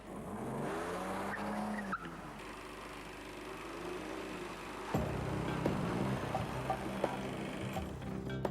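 A car sliding and skidding on an icy surface in Venice, with tire noise and engine sound continuing steadily throughout, a sharper scraping surge about midway.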